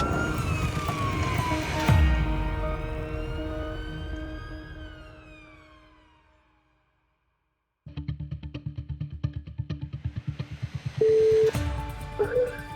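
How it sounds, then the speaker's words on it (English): Emergency siren from a UK ambulance running on blue lights, a loud wailing tone that sweeps and fades into silence, then returns as a rapid pulsing, electronic-sounding siren. "Blue lights and sirens as fast as they possibly can"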